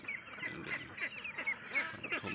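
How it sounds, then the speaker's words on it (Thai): Nakhon Pathom breed ducklings, about a month old, keep up a busy stream of overlapping high quacks and peeps at close range, with no talking. "นี่ครับลูกเป็ดพันธุ์นครปฐมครับทุก"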